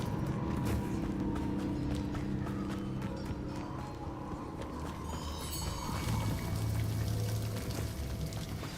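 Waterfall in the video game Banishers, a continuous rushing pour of water with steady splashing, heard alongside soft footsteps and a low game ambience.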